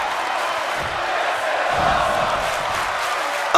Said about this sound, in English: This crowd in a frenzy.